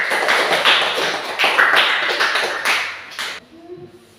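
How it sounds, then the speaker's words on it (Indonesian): A classroom of students applauds a classmate with dense, fast, bright clapping for about three seconds before it tapers off into a quieter room. "Tepuk tangan untuk teman kita."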